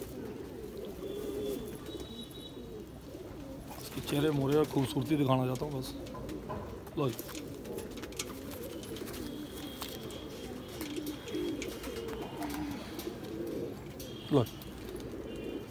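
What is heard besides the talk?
Kalsara Kalpotiya Kaldumba pigeon cooing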